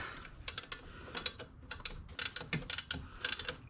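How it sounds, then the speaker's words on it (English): Someone turns the air-con compressor of a Land Rover Discovery 3 by hand to pop the pulley off, giving an irregular series of sharp metallic ticks and ratcheting clicks, close and fairly quiet. "got to continue turning the compressor clockwise, and I'll hold the pulley, and that should pop the pulley off for me"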